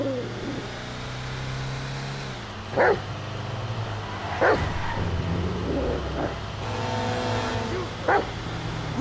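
Chop the dog barks in Grand Theft Auto 5, four or five separate sharp barks spaced out over a steady low engine hum of a car in the game.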